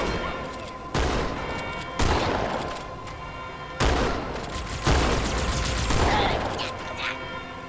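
Halo 2 gunfire from the battle rifle and other weapons, loud bursts of repeated shots in several separate volleys with booming impacts, over game audio and occasional voices.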